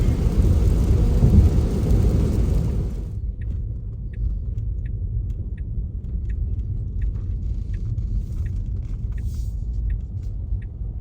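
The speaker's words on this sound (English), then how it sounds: "Just another storm in St. George, Utah." A thunderstorm with rain in St. George, Utah: heavy broadband rain and rumbling thunder roar loudly for about three seconds, then settle into a steady lower rumble of rainfall with scattered faint drips and taps.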